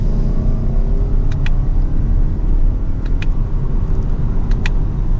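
A 2023 Lexus ES300h F Sport hybrid pulls away from second gear, giving a steady, loud cabin rumble of road and engine noise with a smooth whir that holds even throughout, with a few faint high ticks and no talking.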